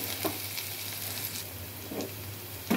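Ginger, green chillies, onions, curry leaves and peanuts sizzling in oil for upma, a steady crackling fry with a few faint stirring scrapes, no talk.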